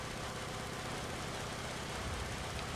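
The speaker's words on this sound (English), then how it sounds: "with this being an M4A4, we have a radial engine" The radial engine of an M4A4 Sherman tank idles in the game War Thunder, giving a steady, dense rumble with a broad, noisy roar that stays constant and close, with no talk.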